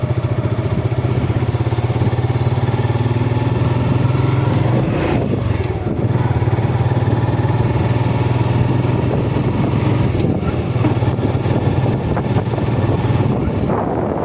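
A motorcycle rides along the 300 Feet road, its engine a steady, loud drone with wind rush throughout and no talking.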